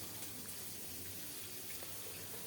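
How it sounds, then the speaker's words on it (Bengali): Water pours steadily into a cooking pot as freshly drained rice is covered with boiled hot water, a constant close gushing splash for the whole moment. "চাউলগুলো জল ঝরিয়ে এখন ফুটানো গরম জল দিয়ে বসিয়ে দিলাম"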